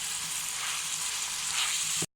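Beef keema fries on a tawa with green chillies just added, giving a dense, steady sizzling hiss of hot fat up close for about two seconds before cutting off abruptly, with no voices.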